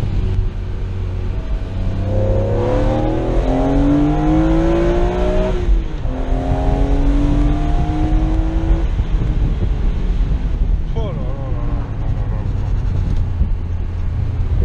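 A BMW Z4 M engine revs hard while driving, rising through several gears with a loud, rasping note. Someone talks excitedly over the rising and falling engine sound.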